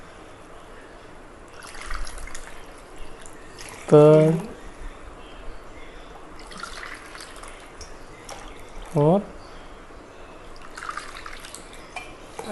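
Water is poured by the cupful into a pot for Tirunelveli-style wheat halwa, two distinct splashing pours that rise in pitch as the pot fills, with someone talking between them.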